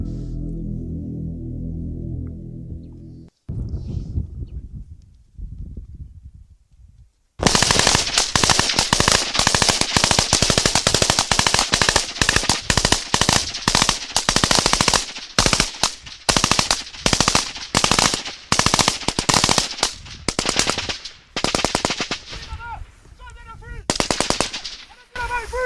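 Heavy gunfire from a combat assault in woods against fleeing fighters: long bursts of automatic fire cracking loud and close, with brief pauses, after a quieter opening passage of music.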